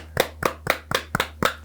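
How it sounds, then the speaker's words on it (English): Six loud, close hand claps in a steady rhythm during an ASMR hand exam, each one crisp and separated by a short gap. "Can you do a nice big clap?"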